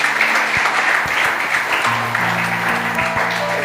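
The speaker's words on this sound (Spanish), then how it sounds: "denle un aplauso al Señor" A church congregation applauds steadily for the Lord during a lively Spanish-language sermon, a dense, continuous wash of clapping with a low organ or keyboard tone sustained underneath.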